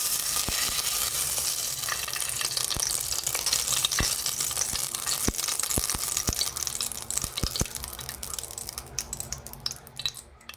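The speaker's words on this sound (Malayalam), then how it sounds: "കുക്കർ അടുപ്പിൽ വെച്ച് ചൂടാവുമ്പം നമുക്കതിലേക്ക് നെയ്യ് ഇട്ട് കൊടുക്കാം" Ghee sizzling in a hot pressure cooker on the stove for cauliflower pulao, a steady, close hiss dotted with small crackles and pops that eases off slightly toward the end, with no voices.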